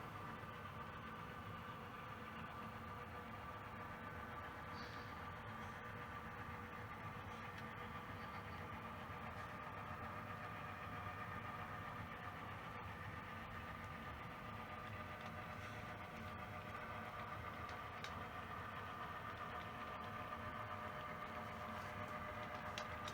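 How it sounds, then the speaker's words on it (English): A low, steady engine hum with faint mechanical whine runs continuously, quiet and even, from a model train backing along track through a layout yard. "Now we're backing the train down to the Rockland branch."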